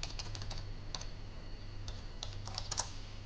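Quiet, irregular clicking of keys being typed on a computer keyboard, with short bursts and pauses and no voices.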